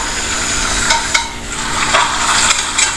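Puris sizzle and bubble in hot oil, a steady close frying hiss with a few light stirring scrapes and soft knocks.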